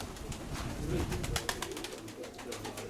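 Pigeons cooing softly nearby with low, throaty calls over a noisy background of rustling and fluttering.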